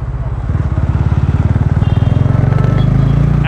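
A TVS Ronin 225 motorcycle rides through city streets, its single-cylinder engine thrumming loud and close with a steady, rapid pulsing beat that rises slightly in pitch as it picks up speed.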